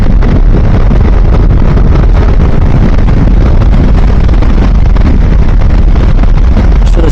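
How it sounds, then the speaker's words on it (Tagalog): Wind roaring steadily and loudly across the microphone while riding a motorcycle on an open road, a continuous rushing buffet with no pauses. "Sarap ng hangin dito."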